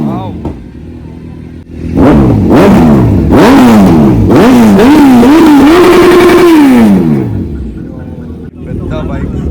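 A big motorcycle engine revs hard several times in a row, rising and falling whines climbing to a sustained high rev before dropping, loud and close at a bike meet with other idling engines around.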